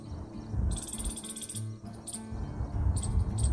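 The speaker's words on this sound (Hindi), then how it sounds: "बैकग्राउंड में गिलहरी की आवाज़ और पक्षियों की आवाज़ भी आप सुन सकते हैं" A squirrel and birds calling outdoors near a grapevine in a garden: sharp, high chirps in short repeated bursts, moderately distant, over a low background hum, with no voices.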